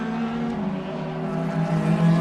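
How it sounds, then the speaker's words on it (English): The V8 engines of 470-horsepower DTM race cars at the Nürburgring roar together in a loud, sustained, droning blare that swells slightly toward the end. "Lovely engine notes from these V8 470 horsepower cars."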